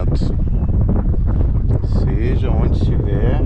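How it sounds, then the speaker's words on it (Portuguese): Wind buffets the microphone while sailing a kayak on the Paraguay River in the Pantanal, a steady loud rumble with water and boat noise, and a person talks over it. "É um vento tranquilo, mas eu tenho que ficar atento."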